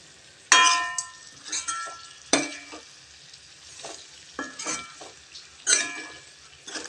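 Masala powder sautéing in oil in a pan, with soft sizzling beneath repeated sharp metallic clangs and scrapes of a spoon stirring against the pan, close by and irregular.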